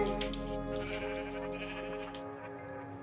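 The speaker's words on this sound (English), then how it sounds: "A lot of sheep here." Sheep bleat softly in a Minecraft world, a short, quiet bleating call over a faint, sustained musical backdrop.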